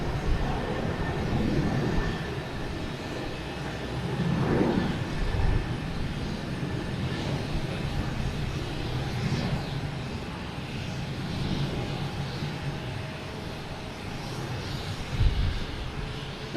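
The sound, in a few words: Delta Airbus A321 airliner arriving from Atlanta at Boston Logan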